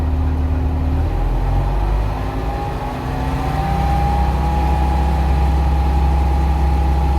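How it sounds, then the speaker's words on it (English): A combine harvester engine runs loud and close, a low steady drone that dips briefly before its pitch climbs as the revs rise from idle. "I'm only idling about 1100 RPM, so let's run it up to about 2000 and see what we get"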